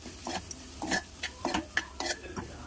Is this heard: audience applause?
no